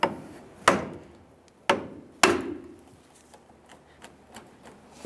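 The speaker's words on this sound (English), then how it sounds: "Gently make your way in between the differential and the axle, and we'll lightly tap on the end" Light hammer taps on the end of a CV axle on a 2015-2020 Ford F-150 3.5L V6, driving it out between the differential and axle: three or four sharp, close metallic knocks spaced about a second apart, then a few faint ticks.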